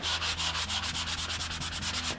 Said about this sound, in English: you're going to take a sanding sponge and you're going to sand that sucker back